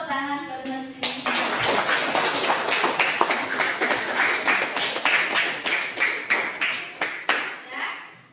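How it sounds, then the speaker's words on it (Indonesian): A classroom of students claps for a classmate in a lively, rhythmic burst that builds quickly and holds steady, with many overlapping hand claps and children's voices mixed in. "Tepuk tangan buat Mas Bisma"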